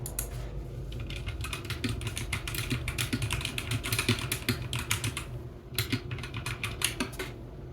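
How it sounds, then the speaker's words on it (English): Rapid clattering keystrokes on a computer keyboard, close and continuous with brief pauses, over a faint low background hum. "you guys are gonna get some keyboard sounds"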